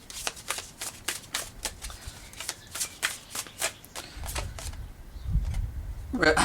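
Divine Beloved oracle cards are shuffled by hand in a quick, steady run of close riffling flicks, followed by softer handling rustles, with a voice talking.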